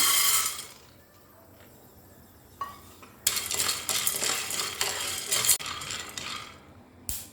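Green peas dry roasting in a pan for a homemade health mix give off scattered crackles and pops, quiet at first and then a dense, busy run of crisp snaps close by, with no talking.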